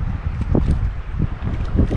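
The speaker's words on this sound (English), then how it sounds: "boy, does it get windy and chilly out here" Strong wind gusts roar over a river at an exposed riverside shrine in Portage des Sioux, Missouri, buffeting the microphone in loud, low rumbling waves with no talk.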